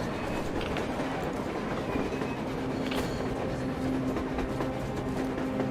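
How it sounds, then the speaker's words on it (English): A train rolls along on the surface in the post-apocalyptic game Metro Exodus, a steady loud rumble with rhythmic wheel clatter and faint squeals, filling the whole stretch without pause. "A damn train on the surface!"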